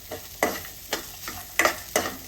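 Poha upma with potato fries in a pan while a spoon stirs in a steady rhythm, giving four or five distinct scraping strokes over a soft, constant sizzle. No one speaks.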